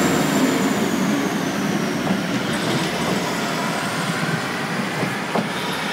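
A Class 156 diesel train pulls away from Manchester Oxford Road station, a steady, fairly loud rumble of engine and wheels that holds level throughout with no speech over it.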